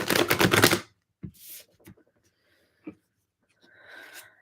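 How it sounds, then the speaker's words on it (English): Tarot cards are shuffled in a brief, dense riffling burst, followed by a few soft taps and a light rustle of the deck. "Last shuffle."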